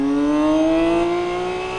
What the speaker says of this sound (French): un 6 cylindres en ligne, c'est quand même assez noble